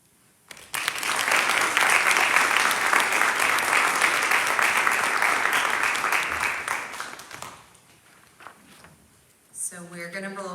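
A state-finals poetry recitation audience breaks into sustained applause, a thick crowd clapping that rises sharply and holds for about six seconds before fading, followed by scattered footsteps and a voice speaking near the end.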